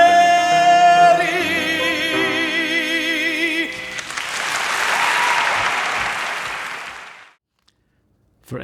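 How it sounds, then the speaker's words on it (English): Audience applause fills a theatre on the steps of the Shubert after a musical passage ends, a broad wash of clapping that swells, holds for a few seconds and then fades into silence. "For Angela, the applause was deafening"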